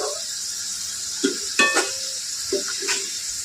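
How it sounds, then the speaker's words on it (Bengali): Potato snacks fry in hot oil on a gas stove, a steady close hiss of sizzling broken by a few sharp clinks of a spoon or pan. "এগুলো ভাজা হয়ে গেছে এবার একটু গ্যাসটা কমিয়ে দিয়ে তুলবো"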